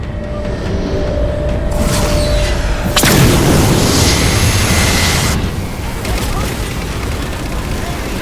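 Explosions pound the Mammoth, a giant armored vehicle in the video game Halo 4: a continuous heavy rumble with a sharp, louder blast midway, then a sustained roar that eases slightly toward the end.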